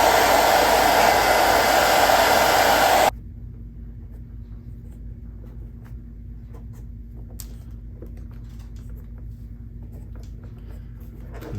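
A heat gun warming vinyl wrap inside a Saab 9-3 blows a loud, steady whooshing roar for about three seconds, then cuts off abruptly, leaving only a quiet, low room hum.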